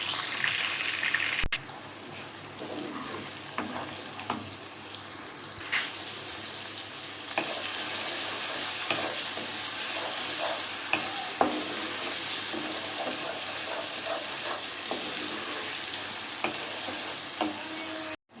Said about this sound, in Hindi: प्याज को अच्छी तरह से गोल्डन गोल्डन सौते करेंगे